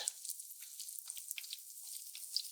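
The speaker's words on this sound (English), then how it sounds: "I just rest them in the oil for 5 seconds, just so the frying action starts to happen" Steady crackling sizzle of battered enoki, beech and oyster mushrooms deep frying as tempura in hot oil, with fine popping bubbles throughout and no voices.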